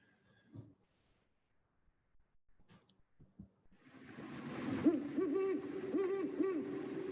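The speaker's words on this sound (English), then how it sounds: "Kind of the classic owl sound that so many of us are familiar with" An owl gives its classic hooting calls outdoors in winter, a run of low, repeated hoots over a steady hiss of background noise, after a few quiet scattered knocks and rustles.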